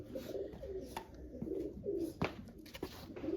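Pigeons cooing repeatedly in soft, throaty phrases, close by, with a few sharp clicks and taps scattered between the calls.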